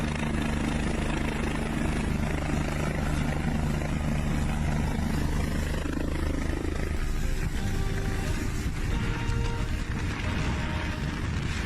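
French police helicopter hovering on a snowy mountain slope at about 7,000 feet, with one skid on the ice during a skier rescue, heavy steady rotor thump and turbine roar filling the whole stretch, loud and close with no talking.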